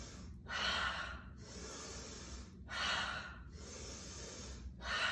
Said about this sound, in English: really taking it in and really exhaling it out